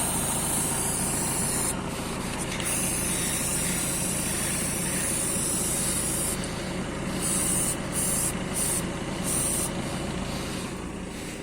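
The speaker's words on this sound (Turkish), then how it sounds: "Geri kalan spreyi de şimdi tekrardan uyguluyorum." A continuous hissing spray of brake and disc cleaner runs nearly throughout, loud and close, with brief pauses and an engine humming underneath.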